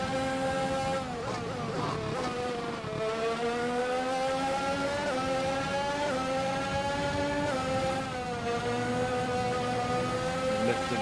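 Race car engine from the F1 2021 video game, a continuous loud high-pitched whine with rising and falling pitch as the car accelerates and shifts through gears, no talking.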